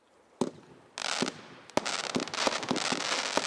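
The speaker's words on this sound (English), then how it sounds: "there's crackle, mine lifts and crackle bursts in the sky, so plenty of crackle in that" Tesco firework cakes go off in rapid succession, sharp lift thumps followed by sizzling crackle bursts that fill the air, loud and near with a busy irregular rhythm.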